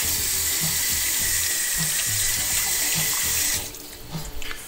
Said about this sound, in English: I'm going to rinse my hand.